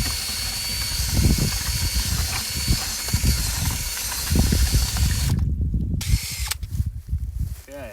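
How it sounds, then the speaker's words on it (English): A power drill with a paint mixer paddle whirs steadily with a thick, sloshing churn in wet soil slurry during a soil probe install, loud and close, briefly cutting out near the end. "So I've got a paint mixing stir on the drill, and we just get really messy here."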